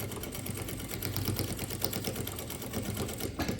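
A sewing machine stitches a bag seam with backstitching at the start and end, giving a close, moderately quiet rapid mechanical chatter that runs steadily throughout with small fluctuations, with no talk.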